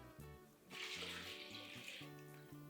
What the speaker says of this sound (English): And now just add water.